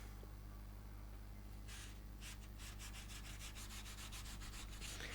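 Rubbing and scraping to crush a nest of ants, a run of dry, close strokes that start as a couple of separate scrapes and then quicken into a rapid, fairly quiet series over a steady low hum.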